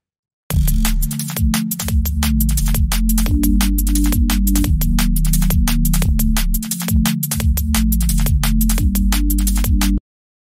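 A sustained Serum synth pad plays beneath a busy electronic track with steady, punchy percussion hits and a rolling bass line, loud and continuous throughout.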